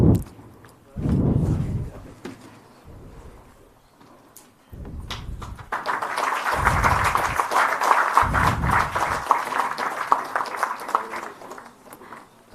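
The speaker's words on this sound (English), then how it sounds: "let us welcome this occasion with a round of applause once again." An audience at an MoU signing event between the Goa government and a skilling startup applauds, with scattered claps and low thumps building into sustained, moderately loud clapping.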